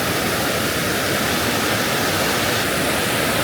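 Water rushing down from Sheshnag mountain near the Amarnath route in Kashmir, a dense, loud, steady roar of flowing water filling the whole clip without breaks.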